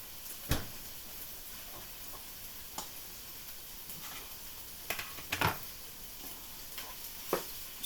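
Chicken pieces for Afghan chicken browning in a pan, heard as a faint, steady sizzle with soft stirring scrapes and a few sharper clicks and knocks of a utensil against the pan.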